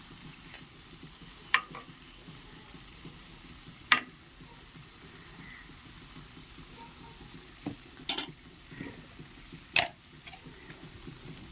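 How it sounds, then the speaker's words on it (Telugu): Masala frying in a pan for a broad bean curry, a faint low sizzle with occasional sharp clicks and scrapes of a spoon stirring at irregular intervals. "మసాలా బాగా ఫ్రై అయిందండి"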